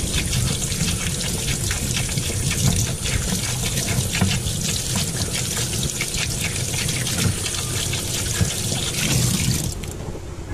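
Running tap water pours over freshly cleaned blue crabs with gills removed, a loud, continuous close splashing rush lasting several seconds before tapering off near the end, with no voices.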